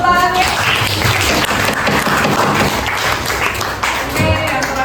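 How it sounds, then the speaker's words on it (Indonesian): Audience applause at a teachers' appreciation event in Indonesia, a steady, dense patter of many hands clapping that lasts throughout at a loud, even level, with some voices mixed in. "biar tepuk tangannya"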